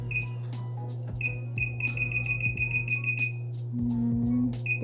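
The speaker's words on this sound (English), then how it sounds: "don't forget to set your timer to 15 minutes." A kitchen timer set for 15 minutes while baking a vanilla sponge cake gives faint, repeated high beeps over a constant low hum of kitchen appliance noise, with no talking.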